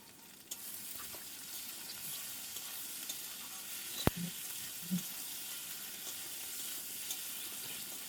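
Ginger-garlic paste with cumin and black pepper fries in a pan for a banana flower dish, a quiet even sizzle with a single sharp knock and a couple of soft thumps from stirring, no voices.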